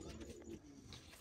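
Fancy pigeons in Oman cooing softly at a distance, a faint low burbling call over quiet background hum.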